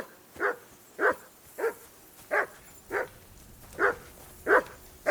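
A dog in Kingdom Come: Deliverance 2 barks in a steady series of eight evenly spaced, fairly close barks, with no talk over them.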